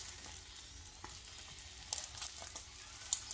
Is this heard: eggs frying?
yes